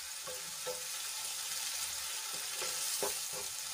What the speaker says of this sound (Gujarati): ડુંગળીને આપણે સરસ રીતે સાંતળી લઈશું